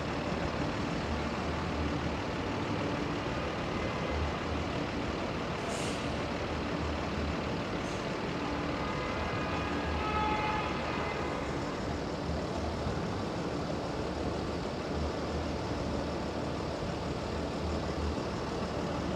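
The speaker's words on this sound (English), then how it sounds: "This is the busiest bus terminal in the country, the Port Authority bus terminal." Heavy city traffic outside the Port Authority Bus Terminal in New York: a dense, steady roar of buses and trucks, with an air-brake hiss rising briefly over the constant engine rumble.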